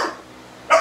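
American bulldogs give two short, loud barks close by, one at the very start and another a fraction of a second later, with no talking.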